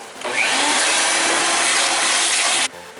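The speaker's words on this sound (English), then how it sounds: "So now we're going to clean it with the vacuum until we order a new one." A vacuum cleaner roars loudly up close for a couple of seconds while cleaning a Suzuki SX4 cabin air filter, a steady whooshing hum that suddenly stops.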